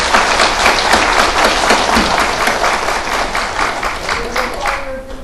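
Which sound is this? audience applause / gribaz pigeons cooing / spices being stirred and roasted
audience applause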